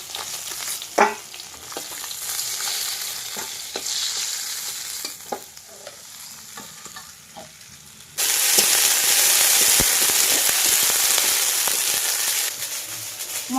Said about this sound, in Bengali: মাছ কিন্তু বন্ধুরা লাল লাল করে ভাজা হয়ে গেছে,